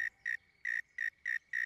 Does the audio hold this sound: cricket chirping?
yes